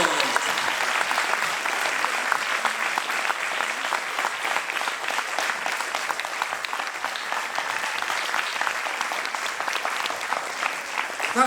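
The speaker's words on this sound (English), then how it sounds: "I think another big round of applause for everybody involved." A theatre audience applauds after an amateur play, dense sustained clapping filling the whole stretch evenly, close and full, without pause.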